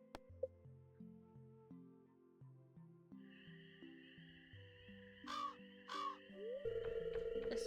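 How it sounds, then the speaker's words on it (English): Crows caw twice in the game Stardew Valley, loud bursts near the end standing out over game music and sound effects. "The sound of crows flying over your home."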